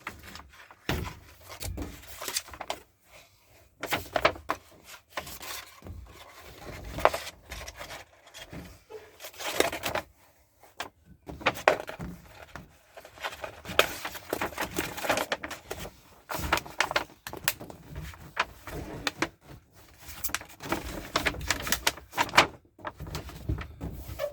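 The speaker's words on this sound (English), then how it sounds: "And as you peel, you can just basically work it back." Backing is peeled off Hushmat sound and temperature insulation during an install in a full-size Jeep, giving a faint, uneven series of rubbing, crackling peeling sounds with brief pauses throughout.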